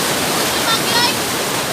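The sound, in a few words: strong waterfall, Tamadong Falls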